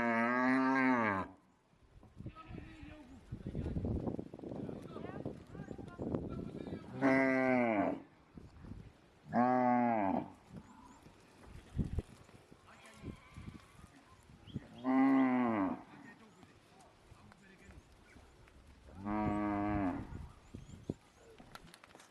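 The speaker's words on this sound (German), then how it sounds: "Die Wiedersehensfreude zwischen Mutterkuh und Kalb ist groß." Maasai cattle in Mgora, Tanzania low repeatedly as cows and calves reunite, with several long, loud moos spaced across the scene over a quieter background of shuffling herd and faint voices.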